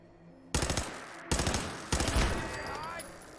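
Gun turret in Fallout 4 firing three loud, close bursts of automatic gunfire, each sharp rattling volley trailing off into a lingering echo.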